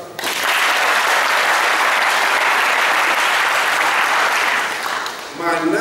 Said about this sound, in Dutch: En nou, applaus waard.